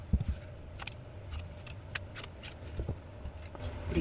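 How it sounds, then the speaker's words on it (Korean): Tarot cards are drawn and shuffled with soft papery flicks and brief rustles, close and faint against a quiet room hum. "상대방의 세부적인 상황이나 입장 카드 뽑아보도록 할게요."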